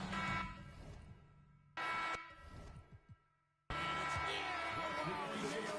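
A loud, short end-of-quarter buzzer blast in an NBA 2K24 basketball game, a bright sustained tone that returns a second time, with game commentary and crowd noise around it.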